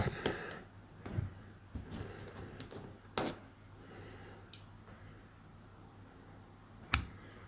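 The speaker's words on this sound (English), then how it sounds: "And you can trim off the tag." Scissors snip the tag off craft fur while tying a fishing fly, producing a few faint, sharp cuts and small handling rustles in a quiet room, with one louder click near the end.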